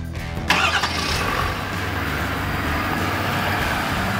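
A 2020 Ford F-250 Super Duty Platinum pickup's engine cranks briefly and fires, then settles into a loud, steady, rumbling idle close by.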